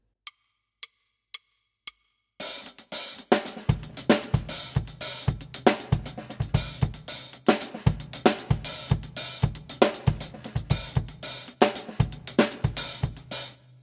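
Four stick clicks count in, then a busy funk drum groove kicks in alone, punchy kick and snare under rapid, syncopated hi-hat work.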